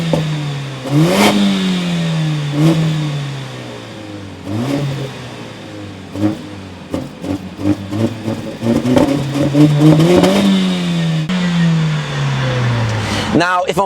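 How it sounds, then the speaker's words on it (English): A Mercedes-AMG A45 premium hot hatch with a 2-litre engine is revved while stationary, its note rising and falling in several loud sweeps close by, with quicker blips toward the end. "Let's give it a few revs."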